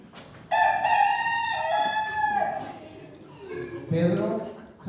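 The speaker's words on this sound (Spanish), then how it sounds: "En aquel mismo momento cantó el gallo por segunda vez." A rooster crows once, loud and close, a long drawn-out cock-a-doodle-doo followed by a shorter trailing call and some clucking.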